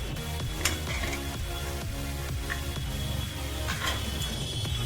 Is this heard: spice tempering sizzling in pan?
yes